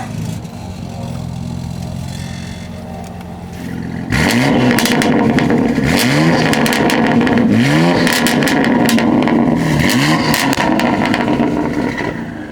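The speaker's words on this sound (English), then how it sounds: "That's that inline 6 twin turbo with upgraded turbos. Now we're going to open the valves and let's hear it." BMW X3M inline-six twin-turbo with upgraded turbos and exhaust valves open, a steady idle that jumps into loud repeated revs, each blip rising and falling with crackle, close and alone.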